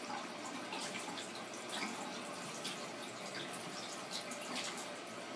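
Hot water running steadily from a tap into a sink, a continuous close rushing splash with no talking throughout.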